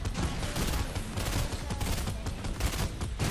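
Rapid gunfire in the video game Fortnite, a dense, continuous burst of automatic shots and fusillade noise filling the whole stretch at steady loudness, with no talk over it.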